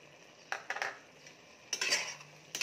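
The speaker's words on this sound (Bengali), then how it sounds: "আমি আবার একটু নাড়া চাড়া দিচ্ছি," A metal spoon stirs a paneer and poppy seed mix with green chillies and raisins in a pan, giving a few scraping clinks in short bursts between quiet moments.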